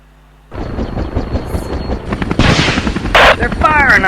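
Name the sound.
gunfire in a video game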